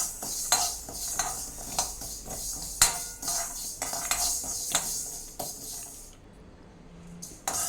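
Fenugreek seeds dry roasting in a pan over a low flame for mango pickle, with light rattling and scraping stirs and faint crackle, steady and close, going quiet near the end.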